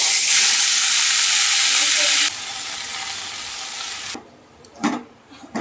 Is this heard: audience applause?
no